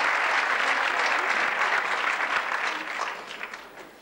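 Sustained applause from an audience at a 1988 literary awards ceremony in Tomelloso, a dense steady clatter of clapping that thins and fades toward the end.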